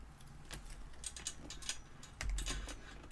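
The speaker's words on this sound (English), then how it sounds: "Please don't walk across my keyboard." A cat treading across a computer keyboard, faint scattered key clicks and taps in an irregular patter, quiet and close, ending with a slightly louder cluster of presses.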